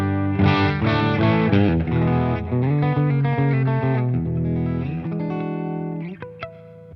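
Distorted electric guitar overdriven through a Boss Katana amp with reverb, strummed chords ringing loud and sustained for several seconds before fading into a few sharp, isolated picked notes.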